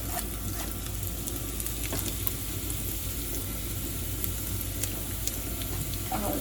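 Black peppercorns, curry leaves and chopped ginger frying in a pan for ven pongal, a dense steady sizzle with crackling pops and stirring scrapes, close and continuous without speech.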